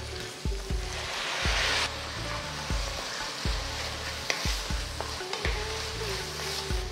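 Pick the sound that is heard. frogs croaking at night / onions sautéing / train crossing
onions sautéing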